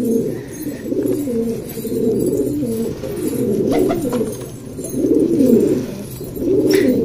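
Pigeons coo in soft, rolling phrases that repeat every second or so, close by and continuous, with no speech over them.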